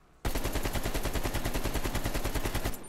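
An AK-47 fires in sustained full-auto bursts in a Call of Duty recoil test, loud close rapid shots in an even, fast rhythm that cut off after about two and a half seconds.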